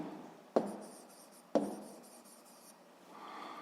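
Pencil writing numbers on paper, two sharp taps as the tip touches down followed by soft scratching strokes, close and quiet with no speech.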